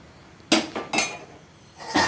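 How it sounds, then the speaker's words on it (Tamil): A metal plate is set as a lid over a pot of fish curry, giving three or four sharp, close metallic clanks and rattles spaced unevenly over two seconds in a quiet kitchen. "தட்டு போட்டு மூடி வச்சுட்டு"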